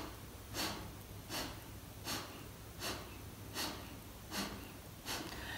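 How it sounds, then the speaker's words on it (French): Bhastrika fire breathing from a yoga pranayama session: seven sharp, forced nasal exhalations spaced evenly about every three quarters of a second, close and alone. "je vais vous en montrer une dernière avec le Bastrika"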